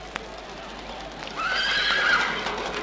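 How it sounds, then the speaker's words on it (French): Horses rear and neigh during a jousting combat with maces, a shrill whinny rising clearly over faint hoof clatter and background noise, fairly near. "Les chevaux se cabrent."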